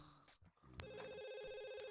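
A telephone rings in The Sims 2, a steady electronic trilling bell that starts abruptly and continues loud and unbroken after a short stretch of faint background game sound.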